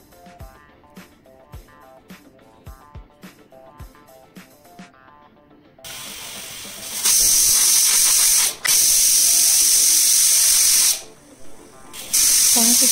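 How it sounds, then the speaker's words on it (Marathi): A pressure cooker of khichda with turmeric, salt and ghee on a medium flame gives light rhythmic rattling, then loud, close whistles of rushing steam that hiss in long sustained bursts with brief breaks. "त्याच्या मीडियम फ्लेमवर 6 ते 7 शिट्ट्या घ्यायच्या आहेत"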